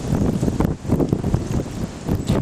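Gusty wind buffets the microphone on a farm in Concord, Wisconsin, during a windy whitetail deer hunt, making a loud, rumbling, uneven roar that swells and dips.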